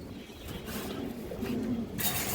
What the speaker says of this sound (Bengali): অনেক চঞ্চল একটা কবুতর